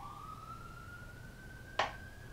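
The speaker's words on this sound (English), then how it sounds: "Police sirens." A faint police siren wails in the distance, its tone slowly rising, with a brief sharp click partway through.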